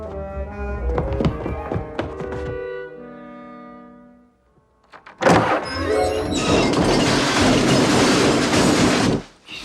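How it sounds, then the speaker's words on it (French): A toolbox tumbles down a staircase in the film Home Alone 2: soft music gives way to a near-silent pause, then a loud, long clattering crash of metal banging down the steps that stops abruptly. "C'était le bruit d'un coffre à outils qui descendait l'escalier."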